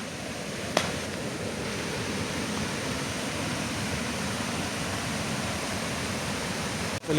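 Water rushes out of a full village dam in a loud, continuous broadband roar that stays steady, with no other sounds standing out.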